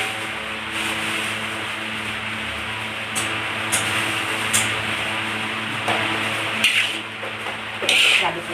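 Bacang pork filling, seasoned with salt and mushroom broth, is stirred in a pan. A spoon scrapes steadily with a faint sizzle underneath and a few sharp clinks of metal on the pan.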